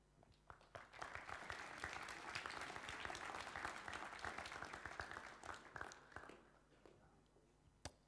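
A school audience at a Year 12 co-curricular awards evening claps in a quiet, distant hall. Scattered claps build into steady applause for several seconds, then taper off into a few isolated claps.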